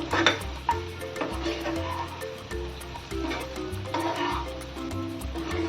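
Stuffed masala okra (bhendi) being stirred in a pan, giving irregular scraping and clinking of the spoon against the metal over a light background sizzle, close and moderately loud with no talking.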